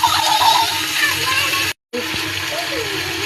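Water being poured into a pan while cooking a spiced dish with garlic paste and cumin, giving a steady rushing pour that cuts out briefly and then carries on, with a voice speaking over it.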